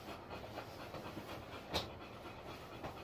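A big, very furry dog pants steadily during a bath, a quick rhythmic breathy huffing that is faint and close, with a brief splash or knock partway through.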